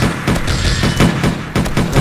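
Rapid bursts of gunfire in the zombie survival game 7 Days to Die during a horde fight, loud repeated cracks in uneven clusters with no pauses.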